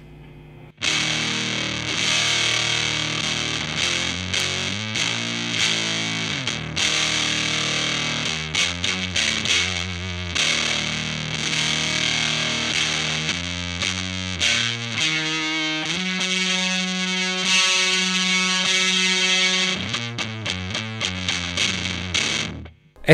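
Electric guitar on the neck pickup played through an Earthquaker Devices Erupter fuzz pedal, thick saturated tone with sustained chords and single-note runs, loud and continuous for over twenty seconds with no talking.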